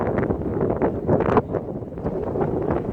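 Strong gusting wind during a low-pressure weather system buffets the microphone with a loud, continuous roar that swells and surges, with no one talking.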